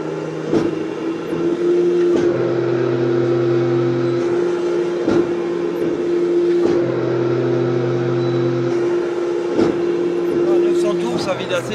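A Scania V8 580 hp truck engine runs with a steady, close drone and swells in revs several times, with people talking over it.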